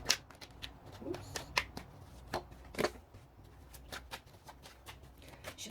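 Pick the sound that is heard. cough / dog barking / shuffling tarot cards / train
shuffling tarot cards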